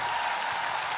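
Short burst of dense applause from an audience, steady and close with no voices over it.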